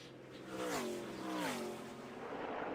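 NASCAR Camping World truck engines roar past on track, rising and falling in pitch as trucks sweep by, with a race commentator's voice faintly underneath.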